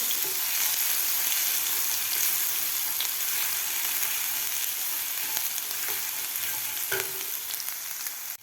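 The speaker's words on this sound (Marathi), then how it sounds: "व्यवस्थित ते परतून घ्यायचं आहे वाटण तेलामध्ये" Coarsely ground green chilli and garlic paste sizzles and fries steadily in hot oil, a dense, even crackle running close and loud throughout with no voices.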